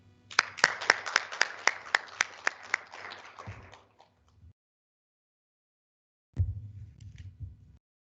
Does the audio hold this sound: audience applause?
yes